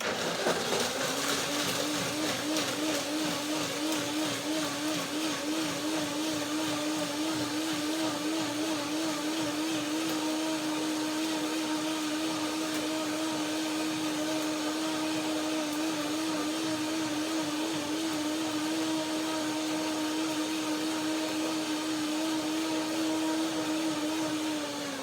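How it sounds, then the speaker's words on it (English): A countertop blender whirs steadily as it purées a lemony cashew cream, the motor holding one even, loud, continuous drone with no voices over it. "Breaking it down here in a quick blend"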